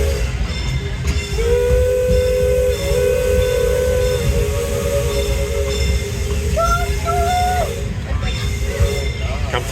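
The Disneyland Railroad steam train runs along its track with a steady rumble and clatter. Its whistle sounds in long tones, fairly close and loud, while people talk over the noise.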